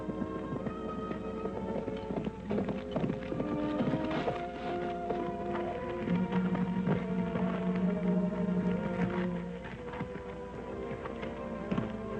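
Horse hooves clip-clopping in an old 1946 serial adventure, a brisk uneven run of hoof taps that holds steady for several seconds over a low background, with a brief whinny-like tone partway through.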